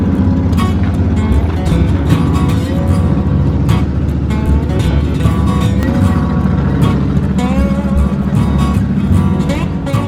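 A Chevrolet S10 pickup truck idles while warming up, with a steady, loud, close engine drone and a faint tonal hum running through it.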